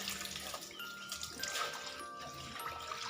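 Water is poured and splashes over clothes being hand-washed to remove dog saliva, a faint, close, continuous splashing and trickling without speech.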